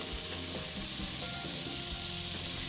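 Chopped onion hits a hot pan of browned beef for a Brazilian pot roast, giving a loud, steady, close sizzle and frying hiss throughout, with faint stirring and no voices.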